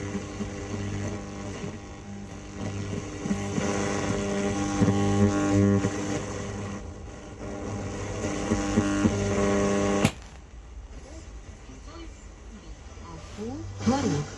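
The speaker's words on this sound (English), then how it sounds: "Long wave and medium wave is picking up a lot of static noise" A 1969–1972 Blaupunkt Ostia radio tuned across long and medium wave gives off steady static hiss and hum with buzzing tonal whines, dropping abruptly to a quieter crackle partway through; no talk is heard.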